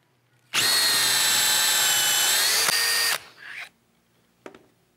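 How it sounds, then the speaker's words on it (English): A barrel trimmer spins up and trims wooden pen blanks down to the tube ends, a loud close whirring drone for about two and a half seconds, then winding down, followed by a short scrape and a faint click. "I'm going to be using a barrel trimmer to trim the blanks down to the ends of the tubes so that everything is nice and straight and even."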